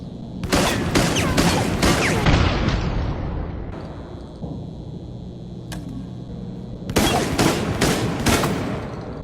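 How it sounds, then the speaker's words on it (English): Juggernaut automatic shotgun in Resident Evil: Operation Raccoon City fires rapid loud blasts in two bursts, a dense run of booming shots followed by a lull of echoing tail and a second quick volley, with no talk. "being an automatic shotgun, the firing speed is quite awesome for a shotgun"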